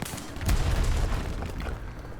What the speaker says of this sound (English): Again, someone's shooting, so dang it.